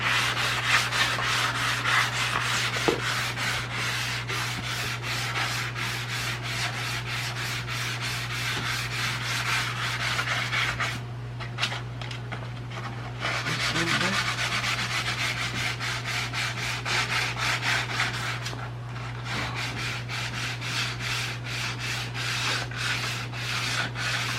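Steady, rhythmic scratchy sanding strokes scuffing primer on an old rusty Dodge's car body panel, continuing for a long stretch with two brief pauses, over a constant low electrical hum.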